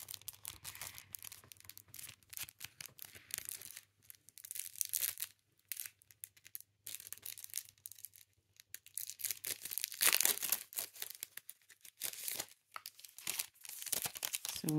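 Thin nail foil sheets are handled up close, giving crisp crinkling and rustling in irregular bursts with short pauses, fairly quiet and without speech.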